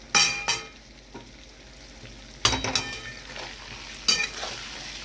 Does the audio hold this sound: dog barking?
no